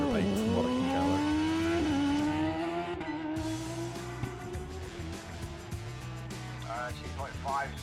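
A motorbike makes a sprint run at the Ramsey Sprint on the Isle of Man. The engine is loud and close, its pitch climbing steadily through the gears, with a rough, busy roar throughout and faint voices in the background.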